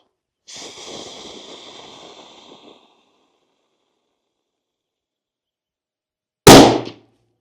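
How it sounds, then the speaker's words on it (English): A single sharp, loud shot cracks from a Tikka T3x ACE Game hunting rifle, then cuts off quickly. Before it comes a few seconds of soft breathy noise, followed by a stretch of silence. "Third shot now going in this group, I hope."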